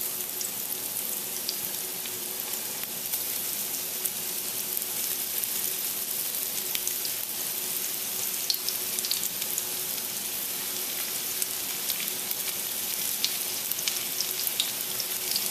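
Panko-crusted flounder pieces fry in hot peanut oil, a steady close sizzle and crackle with fine bubbling pops running continuously.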